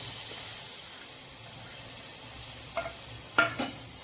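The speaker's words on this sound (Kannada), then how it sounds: "ಎಣ್ಣೆಯಲ್ಲೇ ಫ್ರೈ ಆಗಬೇಕು." Sambar powder and turmeric frying in oil for a milk sambar, giving a soft, even sizzle with a couple of brief spoon scrapes near the end, close and quiet.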